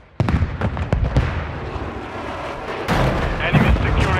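A cruise missile strike lands in Call of Duty Modern Warfare III amid a chaotic multiplayer match, opening with a burst of sharp cracks and booms, then a loud, sustained explosive roar near the end over constant battlefield noise.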